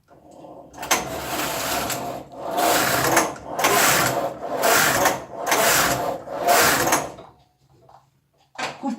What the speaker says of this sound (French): vous allez tricoter quelques rangs de fil perdu dans ces positions d'aiguille-là